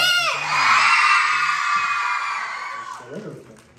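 A group of children at a private film screening let out a loud, sustained shared scream lasting about three seconds. It then fades into scattered voices and a few claps.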